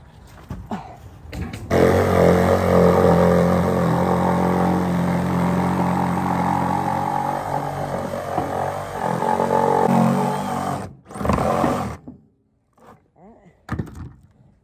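A Sawzall reciprocating saw cuts through a wooden trailer deck in one long, loud, buzzing run of about nine seconds, then stops. A few shorter bursts follow before quiet.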